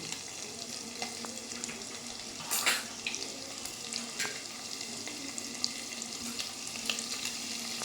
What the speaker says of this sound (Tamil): மிளகு ஜீரகம் நல்லா பொரியட்டும். இப்போ இஞ்சி போட்டுக்கலாம்.